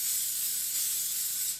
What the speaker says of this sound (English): We're going to just spray it with some cooking spray first.